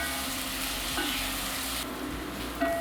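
Onions fry in a pan with curry powder for an Indian curry chicken, a steady close sizzle with stirring scrapes, continuous and fairly loud with no talking.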